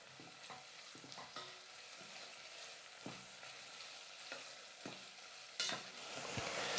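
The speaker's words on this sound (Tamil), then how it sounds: "வெங்காயம் வதங்கும் போது இது கூட நான் ஒரு 8லேருந்து 10 பல் அளவுக்கு பூண்டு சேர்த்துக்கிறேன்." Onions and garlic sautéing in a pan, a soft continuous sizzle broken by intermittent scraping stir strokes and clinks of a utensil, fairly quiet and close, with the frying swelling louder toward the end.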